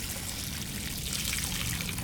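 Water from a garden hose pours and trickles steadily for a manatee to drink, a continuous close splashing stream with no talk.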